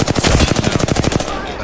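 A burst of rapid automatic gunfire from a shooter video game, loud and close with about a dozen evenly spaced shots in quick succession that trail off into a short fading echo.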